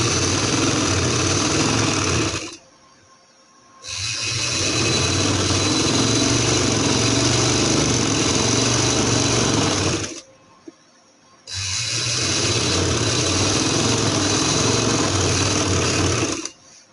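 An electric sewing machine stitching a smocked frock, running in long continuous whirring stretches broken by two brief pauses, close and steady with no talk over it.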